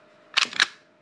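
Magazine ejected from a Colt M1911A1 airsoft spring pistol: two quick, sharp metallic clicks close by, a brief snap and slide within half a second, against an otherwise quiet background.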